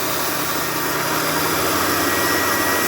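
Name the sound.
Black and Decker valve resurfacer starting up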